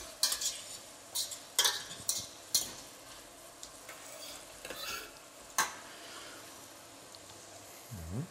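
Shallots sweat in a pan for a pumpkin chutney, giving a soft, steady sizzle. A spatula stirs and scrapes now and then, with a few sharper clinks of utensil on metal spread through the stretch.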